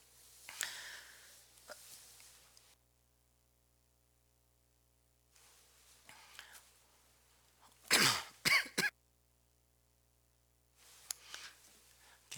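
A man gives a few harsh coughs in a quiet hall, brief bursts separated by silence, with one louder cluster of coughing near the middle.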